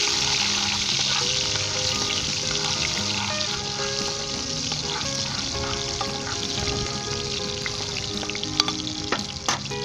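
Chicken and tomatoes sizzle and fry steadily in a hot pan, with occasional stirring clatter and utensil taps near the end, continuous and close with no talk.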